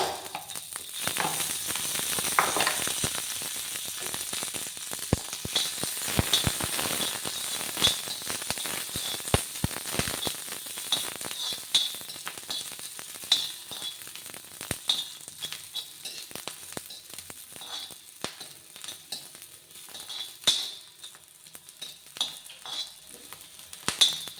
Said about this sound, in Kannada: ಸ್ವಲ್ಪ ಎಣ್ಣೆ ಹಾಕಿ ಹುರ್ಕೊಳ್ಳೋಣ